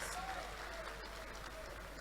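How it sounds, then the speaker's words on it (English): An audience at an AFIT event claps together in a steady, moderately distant wash of applause, with faint voices mixed in underneath. "Clap for yourselves."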